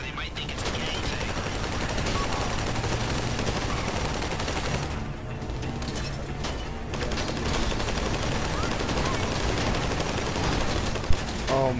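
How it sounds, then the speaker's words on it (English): Sustained rifle fire in Grand Theft Auto V rattles on for the whole stretch, dense bursts of gunshots layered over game background noise at steady loudness. "Oh my god, are you shooting with a rifle?"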